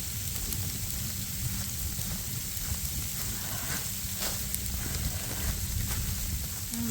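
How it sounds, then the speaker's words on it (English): Freezing rain falling onto a cornfield on a cold day, a constant fine crackling patter with a soft low rumble underneath. The sound stays even and fairly quiet throughout and no one speaks. "If you listen carefully, you can hear this is freezing rain right now."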